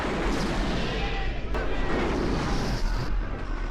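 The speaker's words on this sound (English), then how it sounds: "John detonates the explosives" Detonated explosives in an action movie scene set off a dense, continuous roar of blasts and rumbling fire, loud and sustained throughout with brief bursts near the middle and end, mixed with a faint voice.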